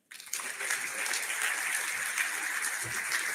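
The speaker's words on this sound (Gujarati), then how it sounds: "આપણે સૌ ઊભા થઈને તેમને તાળીઓના ગડગડાટથી વધાવી લઈશું" An audience at a chamber of commerce session bursts into sustained applause after a minister's speech, a dense steady wash of many hands clapping that starts abruptly and continues evenly throughout.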